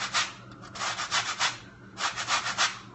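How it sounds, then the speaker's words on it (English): Lemon zest grated into a bowl: soft rhythmic rasping strokes in two short runs, close and fairly quiet, with no voice over it. "We're gonna grate a little lemon zest in."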